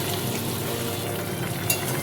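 Soybean and potato masala curry gravy bubbling in a pan, a dense, continuous simmering and frying noise, close and steady throughout with no talk.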